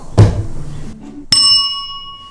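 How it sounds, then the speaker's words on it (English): A bell on a table struck hard once, ringing out bright and sustained as it fades, after a short thump and some background noise. "There is a bell on the table."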